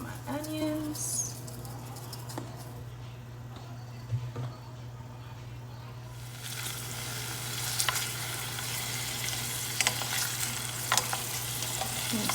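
Garlic and onions with Italian seasoning sauté in a pan for a baked salmon meal, a steady low sizzle with stirring scrapes and faint clicks, growing denser and louder in the second half, with no one speaking.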